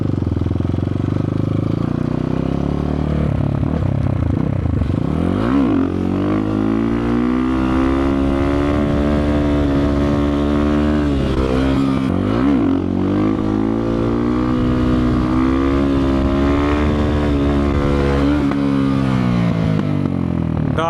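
A Kovi Max 300 motorcycle engine in third gear drones steadily, its pitch rising and falling as the rider accelerates and eases off, loud and close throughout.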